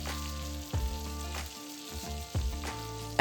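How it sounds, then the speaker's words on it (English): Pork tenderloin sears in a hot pan with a steady sizzle, broken by a few clinks and scrapes as kitchen tongs grab and flip the meat. "Flipping the tenderloin over with kitchen tongs now that the first side has picked up some real color from the pan."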